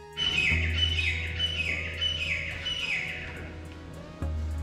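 A grey francolin repeats a loud, strident call in a rhythmic series of harsh phrases over a steady low hum.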